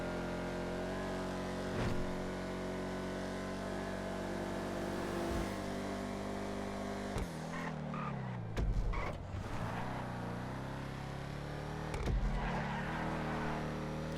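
A Vapid Dominator GTX muscle car driving in GTA Online, a steady engine drone with gear shifts and revving bursts, loud and close, with no talk.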